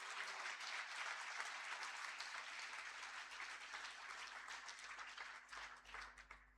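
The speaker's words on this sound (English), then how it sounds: "And I think we can just have a round of applause for that." An audience applauds at the opening of the 11th World Recreational Fisheries Conference, the first held in Africa; dense, even clapping fills the room for several seconds, then slowly thins toward the end.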